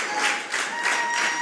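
A wrestling crowd at a Kevin Panic vs JR Miller match claps and cheers for Kevin Panic, rising in several swells of applause across a short stretch.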